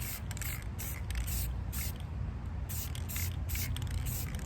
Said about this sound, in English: The closer you get, the heavier spray paint is going to go on your tumbler